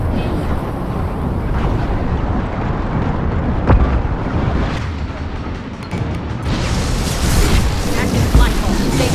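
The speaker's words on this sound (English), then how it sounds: "Watch out! Flashbang!" A flashbang goes off during a combat mission in Mass Effect 2, a loud booming blast inside dense, continuous battle noise, with voices talking over it.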